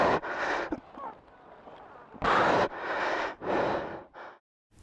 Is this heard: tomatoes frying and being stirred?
no